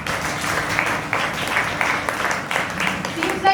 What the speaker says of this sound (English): Please clap loudly.